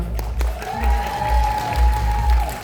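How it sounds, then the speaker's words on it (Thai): Short burst of applause at an award ceremony in Thailand, many hands clapping in a dense patter that swells and fades over a couple of seconds, with a low steady hum beneath. "ขอเสียงปรบมือด้วยนะครับ"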